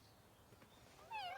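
A cat meows near the end, a short rising call standing out over quiet room tone after a near-silent stretch.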